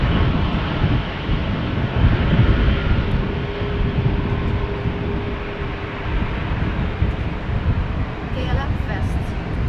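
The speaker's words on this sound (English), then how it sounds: "There's also another airplane coming this way. That would be a KLM 737-800 to Milan." A KLM Boeing 737-800 approaching at wet, windy Amsterdam Schiphol, a steady low engine rumble mixed with wind noise and a faint tone, while a voice speaks over it.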